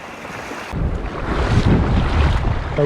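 Surf rolling onto a shallow sandy beach at an incoming tide, breaking over a small sandbank in a steady, rushing wash with wind buffeting the microphone, building louder after a quieter opening.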